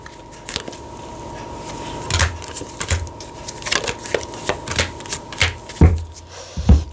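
Tarot cards being shuffled by hand, a steady run of soft riffling and slapping card sounds with a few sharper taps, close and fairly clear, no talking.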